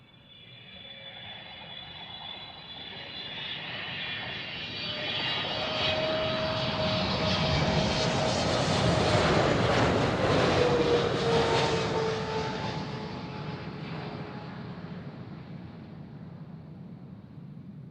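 An airplane passing near the start of the Polderbaan runway at Amsterdam Schiphol Airport, a loud engine roar that swells to a peak midway and then slowly fades.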